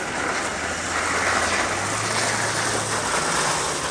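A steady low drone from a small motor boat's engine runs throughout, with a broad hiss of water or wind over it, constant and moderately loud with no talk.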